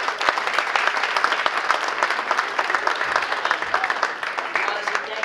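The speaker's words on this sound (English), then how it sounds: "So let's have a round of applause for the kids and the adults." Audience applause for children and adults at a North Reading school committee meeting: a steady round of clapping from a crowd, close and continuous, with voices mixed in.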